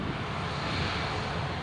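Boeing 737 taxiing at Newcastle International Airport, a steady broad jet engine roar heard from a distance, continuous and unchanging over the short stretch.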